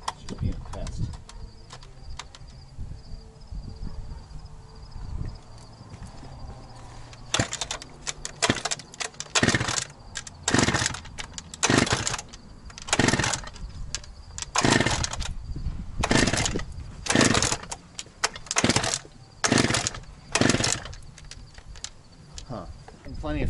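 An Echo CS-670 chainsaw with cutting and starting trouble catches and revs in a long series of loud, close, uneven bursts. Quieter outdoor background sits between the bursts.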